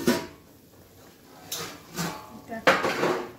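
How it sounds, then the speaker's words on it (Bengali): A lid comes off a cooking pot of fish curry, with a few metallic clanks and clatters spread out over a quiet kitchen background, close and moderately loud. "এবার ঢাকাটা খুলে দেখি কি অবস্থায় আছে।"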